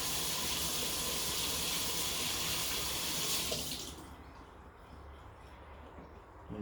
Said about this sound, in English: Just wash my hands here,